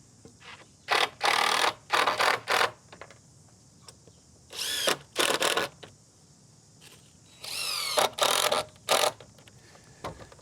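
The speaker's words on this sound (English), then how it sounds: "running a straight line across there and just throwing our screws in" A power drill drives screws into the rails of a wooden gate, sounding in several short bursts of whirring, each about a second long, separated by quiet pauses, close and fairly loud with no talking.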